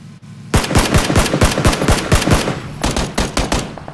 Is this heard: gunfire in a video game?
yes